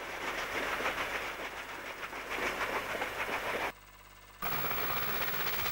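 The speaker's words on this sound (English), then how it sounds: "3804 leads 3813 on a tour train through Penrith during the mid-1960s." Steam locomotives 3804 and 3813 hauling a tour train through Penrith, Australia, in the mid-1960s, a steady rolling rumble and hiss with faint rail clatter, cut by a brief silent gap before resuming.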